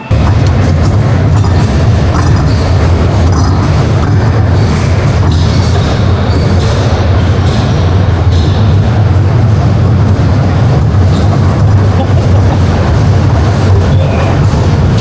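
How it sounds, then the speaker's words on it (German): A roller coaster built by SOS Rides runs inside the Fanta Park shopping mall, its loud, continuous rumble of wheels on track sustained throughout with steady rattling and clatter, close and dominant with no talk. "Wir sind im Fanta Park angekommen und sind natürlich die Achterbahn gefahren."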